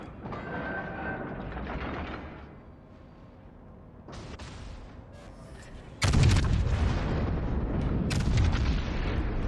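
Heavy naval gun salvos boom in World of Warships Legends, with a rumbling battle bed before a loud, sustained blast of fire that rolls on to the end.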